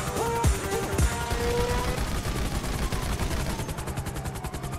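Gunfire in the video game GTA V, with rapid, loud, dense shots rattling continuously through the whole stretch, mixed with a few tonal game sounds early on.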